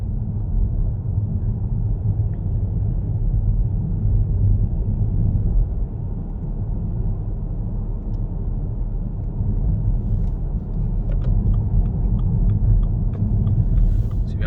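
Steady low road rumble and engine hum fill the cabin of a BMW 318d saloon on the move, a constant drone with faint ticks and no talking.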